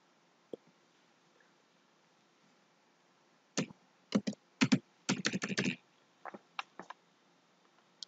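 Keys clatter on a computer keyboard as values are entered into mapping software: a few isolated clicks, then a quick burst of close, soft typing and some scattered final keystrokes in a quiet room.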